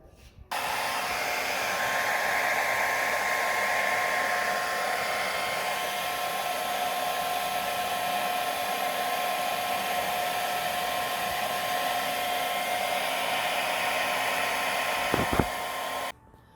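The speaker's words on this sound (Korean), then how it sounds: "드라이기로 말려줍니다." A hair dryer blows steadily and loudly for the whole stretch, drying a painted surface at a construction painting school, a constant whooshing whine with a faint tonal hum, cutting off near the end.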